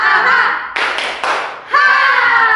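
Children clap their hands during a clapping game at a Sunday school service, two short bursts of hand claps set between lively group chanting voices.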